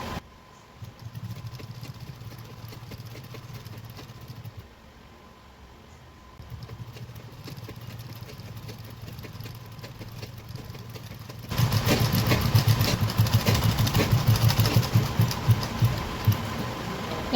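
A sewing machine stitches a joint seam on an umbrella gown, its steady motor hum and rapid needle patter running quietly at first, pausing briefly, then growing much louder and busier near the end.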